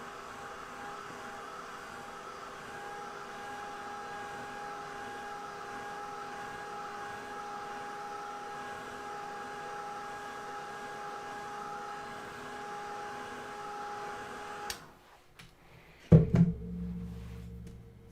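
A heat tool blows a steady, even whir while drying watercolor paint on a winter card, running continuously for about fifteen seconds before switching off with a clunk and a brief handling noise.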